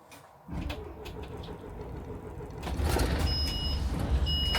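A bus engine starts up on a cold day of about 2 to 3 degrees, cranking into a low rumbling idle that grows louder and rougher partway through, with faint high beeps over the running engine.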